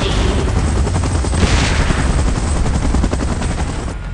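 Helicopter rotor and rapid gunfire in a Godzilla video game battle, a loud continuous barrage of dense bursts over steady rotor noise, with no speech.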